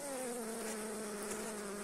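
Honey bees in an overwintering hive give off a steady, dense hum with a low drone, continuous and close throughout with no talk.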